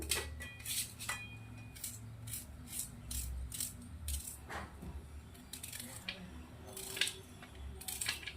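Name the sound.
knife finely chopping onion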